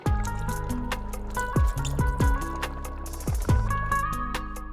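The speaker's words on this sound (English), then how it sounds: "then add rose water." Rose water pours and splashes into a pot of rice with bubbly dripping sounds, close and steady, with a few louder plops.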